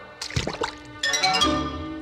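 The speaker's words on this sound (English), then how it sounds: "they got buckets of hot water, one for his right foot" Hot water sloshing and pouring from buckets as a storybook sound effect, a few wet splashes and drips giving way to a steady fill, close and clear with no talking.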